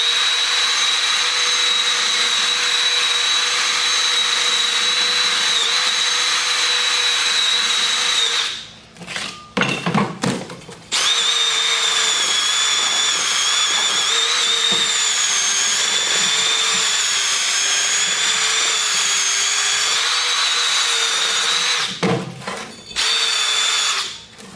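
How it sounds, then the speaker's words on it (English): A brake rotor from a front brake service being resurfaced on a brake lathe, a loud continuous machining whine with high tonal squeal, briefly dropping out twice before resuming, close with no talking. "Here you can see that rotor being resurfaced."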